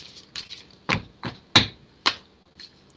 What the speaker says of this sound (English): Let's start our shuffle,